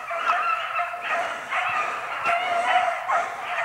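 Several beagle hounds on a hare's trail bay and yelp in overlapping bursts, a continuous chorus of excited howling at moderate distance with no voices.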